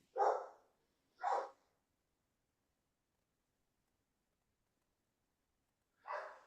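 Dogs in the background bark in three separate single barks, the first two close together and the third after a long pause. The barks are clear but moderate in level against near silence.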